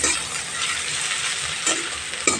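Five green chillies frying in a pan over a medium gas flame for Lote fish curry, a steady close sizzle with a couple of brief louder crackles near the end.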